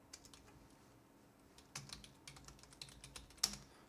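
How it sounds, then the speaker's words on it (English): A computer keyboard clatters with rapid, irregular bursts of key clicks, quiet and close with no one talking, growing busier toward the end. "my keyboard is freaking out"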